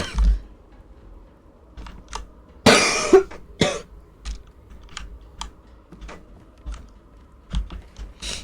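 A single harsh cough in the video game Call of the Sea stands out amid a series of sharp clicking taps, like keys or game inputs, fairly close and quiet.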